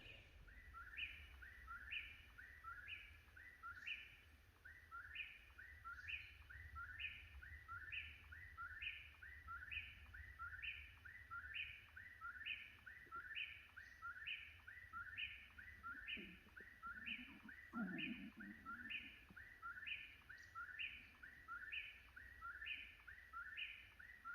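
Evening birdsong along the Appalachian Trail: a single bird repeats a bright, rhythmic chirping phrase without pause, steady and moderately near over a faint low background hum.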